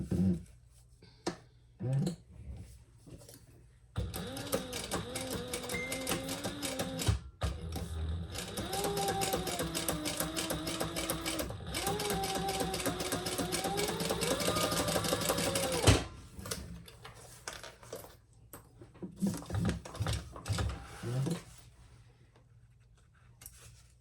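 A sewing machine stitching a seam on a small sling bag, a long run of fast, even mechanical whirring with a rising and falling pitch, framed by short clicks and stop-start bursts of the needle.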